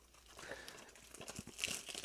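Plastic wrap on a PlayStation 2 game case is peeled off in quiet, close crinkles and a few sharper tearing crackles that build toward the end.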